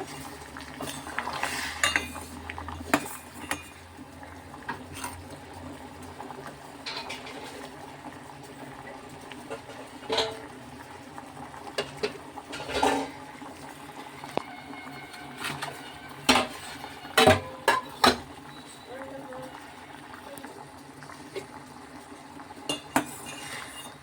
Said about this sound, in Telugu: బెల్లం అయితే పాకం పడుతున్నాను కొంచెం వాటర్ పోసి బెల్లం గడ్డలు వేసేసాను